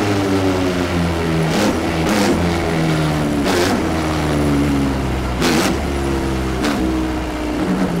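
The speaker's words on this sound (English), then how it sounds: "I stand on the gas as hard as I can if you piss me off" A dirt-track race car engine revved hard on the gas, a loud continuous roar with rising and falling pitch and repeated sharp surges, close and alone.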